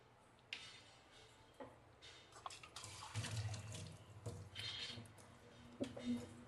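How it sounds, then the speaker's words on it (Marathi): Water poured into a bowl of rice flour for amboli batter, a close splashing pour with wet squishing as it is mixed in, with faint voice in the background. "आता यामध्ये पाणी टाकून देते"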